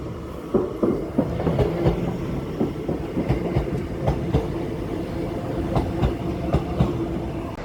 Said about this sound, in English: train coming! 185, 147 and 185, 139